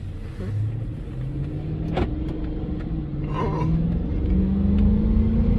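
A Chrysler 300S V8 engine fitted with an Injen cold air intake hums steadily, then revs up in several short rising bursts, fairly close and with no talking.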